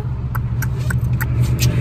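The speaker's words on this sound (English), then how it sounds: "So I'm back in my old car." An old car's engine runs at a steady low hum from inside the cabin, with faint clicks and rattles over it and no talk.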